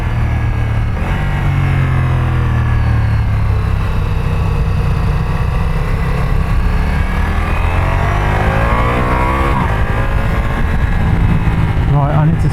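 Ducati Multistrada V4S motorcycle ridden smoothly through Alpine corners, its engine droning steadily and continuously with rising and falling pitch as it accelerates and brakes, loud and close beneath wind rush.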